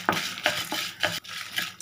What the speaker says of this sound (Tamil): இப்போது அஞ்சு காஞ்ச மிளகாய் போட்டு நல்லா ஃப்ரை பண்ணிக்கோங்க.